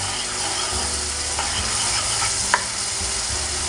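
Onions cook in a pan for fish pulusu, giving a continuous sizzle and hiss with a few light scraping stir sounds.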